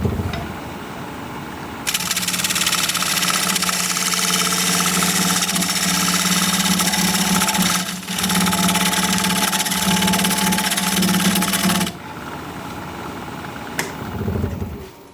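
Wood lathe spinning a cherry plum bowl as a gouge pushes against it, a loud continuous rough grinding whir lasting about ten seconds, dipping briefly midway, with the lathe's hum before and after.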